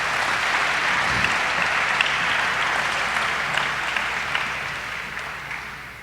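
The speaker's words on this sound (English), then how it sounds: "Give yourself a round of applause in your leadership." Steady applause from a crowd at a governor's inauguration, a continuous, even wash of many hands clapping that holds for several seconds and slowly eases, with no talking over it.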